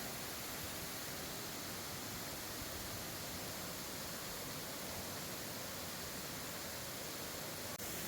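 A waterfall in Bali pours in a spectacular setting, giving a steady, unbroken rushing roar that stays even and fairly faint throughout, with no other sounds standing out.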